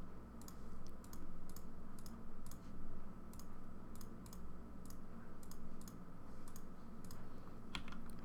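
Computer mouse and keyboard clicks while working in Revit software, a series of crisp, close, fairly regular clicks over a faint steady room hum.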